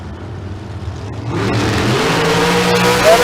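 Drag racing cars launching at Famoso Dragstrip during bracket races. A low engine idle swells into a loud, sustained roar as the cars accelerate hard off the line.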